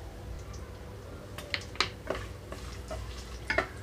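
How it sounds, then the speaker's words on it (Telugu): Whole spices (cinnamon, cloves, cardamom, marathi moggu, star anise and bay leaf) frying gently in oil over a low flame, with a soft sizzle under several light metallic stirring clinks from a spoon against the pan. "లో ఫ్లేమ్లో ఉంచి ఇవి కొంచెం వేయించుకుంటున్నాను."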